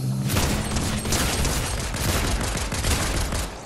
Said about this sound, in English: I've shot him 4 times and then you shot him. Killed him.